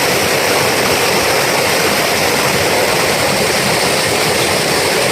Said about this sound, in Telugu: చాలా పెద్ద జలపాతం అండి